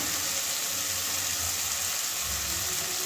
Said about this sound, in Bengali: এবারে ফুলকপিটাও দিয়ে দেবো।